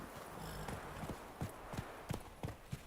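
Hooves of Roach, Geralt's horse in The Witcher 3, clip-clop in a steady, fairly soft rhythm of repeated strikes, heard alone against quiet background.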